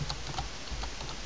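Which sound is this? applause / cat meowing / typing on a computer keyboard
typing on a computer keyboard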